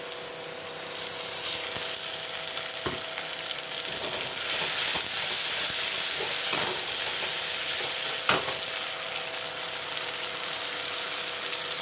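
Kasuri methi and ginger garlic paste frying in a pan, a steady bright sizzle with clinks and scraping stirs of a utensil, close and continuous.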